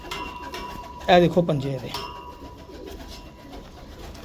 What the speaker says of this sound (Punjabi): ਇਹ ਕਬੂਤਰ ਚੈਂਪੀਅਨ ਕਬੂਤਰ ਆ ਜੀ ਆਪਣੇ ਇਲਾਕੇ ਦਾ